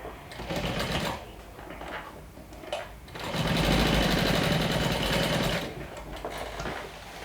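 A sewing machine top-stitches the exterior of a bag in short, rapid mechanical bursts, with one longer run in the middle separated by pauses and small handling sounds.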